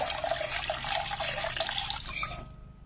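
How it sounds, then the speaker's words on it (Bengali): Water pours into a pan of fried curry masala for a vegetarian dhoka curry. A continuous, close splashing gush lasts about two and a half seconds and then cuts off abruptly, with no speech. "এখানে জল দিয়ে দিয়েছি"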